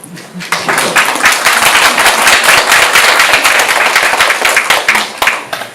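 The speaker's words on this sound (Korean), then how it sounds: "여러분들 박수 좋으실 것 같지 않아요?" An audience claps for a pharmacist giving a talk on skin health, a loud, dense burst of applause that swells in quickly and holds steady for about five seconds before starting to thin out.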